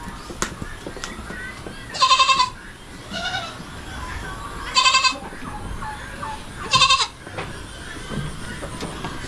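Goats on a farm bleat loudly three times at roughly even intervals, with quieter bleats and farmyard background noise in between and no speech.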